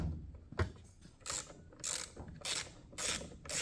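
Ratchet with a deep spark plug socket clicks in several short bursts while backing out an old, worn spark plug on a Husqvarna string trimmer engine, close and fairly quiet with pauses between the strokes.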